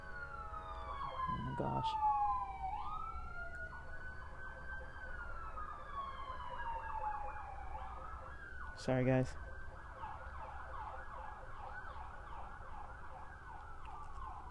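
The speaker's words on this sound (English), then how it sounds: "This is the second set of sirens within the same day." Emergency vehicle sirens wail and sweep in pitch as they pass along a road, loud and continuous throughout with traffic beneath, and a brief burst of a person talking near the start.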